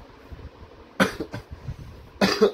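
Two harsh coughing bursts about a second apart, close and fairly loud, with quiet background noise between them.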